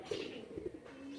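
Golden pigeons, a female bird among them, give soft, low coos in two or three short murmuring bursts, close and gentle against a faint background hiss.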